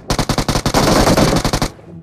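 Automatic gunfire in the PUBG Mobile game, with a loud rapid burst of sharp shots in quick succession, a brief denser stretch in the middle, then a clean stop.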